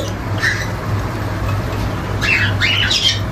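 Java sparrows in a home cage give a few sharp, high squawks, one early and a quicker cluster near the end, close and fairly loud over a steady low background hum.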